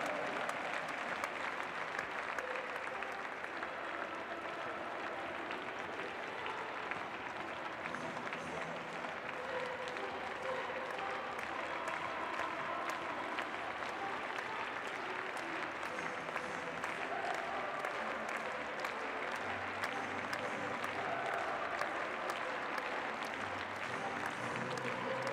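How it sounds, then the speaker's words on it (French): Crowd at a Saut Hermès show jumping competition clapping in time during the honour lap, a long, dense, rhythmic applause that continues steadily throughout. "continuez donc à les applaudir maintenant en cadence, mesdames, messieurs"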